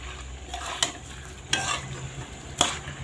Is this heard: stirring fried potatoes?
yes